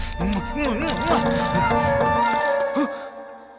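A phone rings with a warbling electronic ringtone that loops in repeated bursts, heard close in a scene from a horror movie; the ringing fades out near the end.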